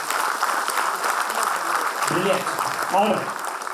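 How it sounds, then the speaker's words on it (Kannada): Audience clapping fills the opening seconds as a dense, even patter of many hands, then thins as a voice begins speaking over it. "ನೀವು ಎಷ್ಟು ಜೋರಾಗಿ ಚಪ್ಪಾಳೆ ತೊಡ್ತೀರಾ ನಿಮಗೆ ಗೊತ್ತು"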